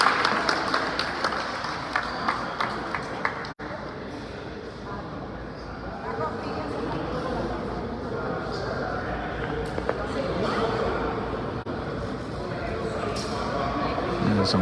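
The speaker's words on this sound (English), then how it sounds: "He gets an ovation from the crowd." A crowd at a high school basketball game gives an ovation, with sustained applause and cheering from the stands and occasional ball bounces. A commentator talks over the noise throughout.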